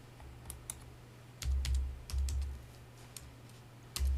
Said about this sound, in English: once we're running the terminal program, we need to type in some shell scripts